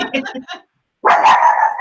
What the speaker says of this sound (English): they're barking at the door now.